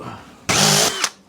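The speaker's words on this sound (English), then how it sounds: "Just want to drill." A power drill whirs in one short, loud burst while drilling a 12 mm hole in a motorcycle speedo bracket, spinning up abruptly and cutting off after about half a second.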